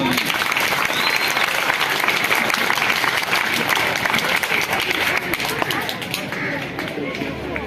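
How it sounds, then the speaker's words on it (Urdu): At a school farewell ceremony for a retiring teacher, a crowd applauds vigorously. The close, dense clapping holds strong for several seconds, then begins to thin and fade toward the end, with some voices mixed in. "تو ان کے لیے بھرپور تالیاں"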